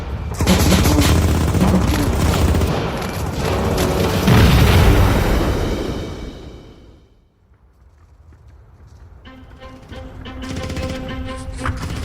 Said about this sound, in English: then the Germans open fire on them again